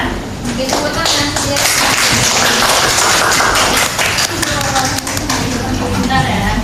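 Children clap their hands together in an Indonesian primary classroom, a dense, steady patter lasting several seconds, with a teacher's and pupils' voices mixed in.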